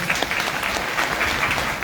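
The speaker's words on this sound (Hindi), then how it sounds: "जोरदार तालियों से इनका स्वागत करिए" A crowd applauds steadily, dense loud clapping throughout with no break.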